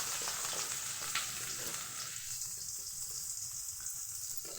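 Chopped onions, green chillies and curry leaves fry in oil in a pan, a steady close sizzle that quietens slightly partway through, with no voices.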